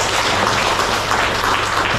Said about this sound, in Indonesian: ini kandidat Dr. Doni SP, tepuk tangan dulu semua.